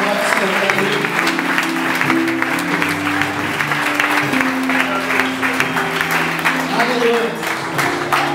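A church congregation applauds steadily at an adolescents' youth festival, dense clapping filling the room for several seconds while a voice speaks over it.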